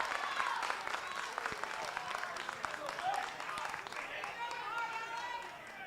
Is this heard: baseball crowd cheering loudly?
yes